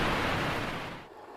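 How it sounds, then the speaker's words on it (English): Waterfall sound effect from iMovie: a dense, steady rush of broadband water noise, loud and continuous, easing off slightly toward the end with no voices. "a waterfall"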